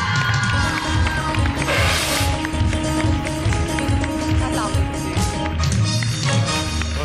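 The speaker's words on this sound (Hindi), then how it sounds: "जोरदार तालियों में हम वेलकम करेंगे आगा अली को।" A studio audience at a TV morning show's Eid special gives loud, sustained applause and cheering, a dense continuous roar of clapping that fills the whole stretch without a break.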